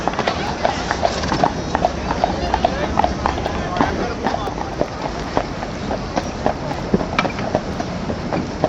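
A horse pulling a carriage at a Christmas event clip-clops in a steady close rhythm of hoof strikes on pavement, with people talking over it.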